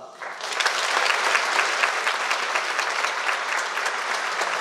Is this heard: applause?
yes